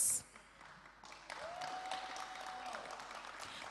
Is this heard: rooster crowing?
no